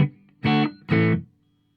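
Clean electric guitar tone through a Marshall Code 50 amp with delay and reverb off: two short strummed chords ring out one after another, each cut off cleanly, then silence.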